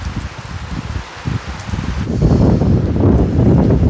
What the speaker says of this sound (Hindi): बड़ी तेज़ बारिश शुरू हो गई है बाहर।